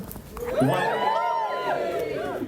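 Crowd cheering and whooping at the opening of a conference in Sheffield, a broad sustained swell of voices that rises after a short lull and holds loud throughout.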